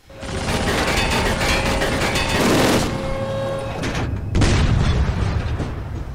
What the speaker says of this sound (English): I want to get off the gun and dodge the artillery